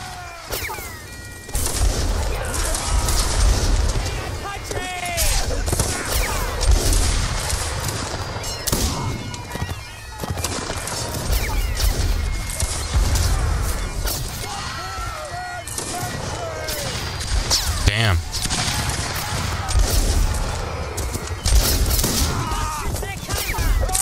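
Musket volleys from a firing line at a sandbag wall during a 100 vs 100 siege battle in Mount & Blade crack out repeatedly, mixed with battle din while a player talks over the shooting.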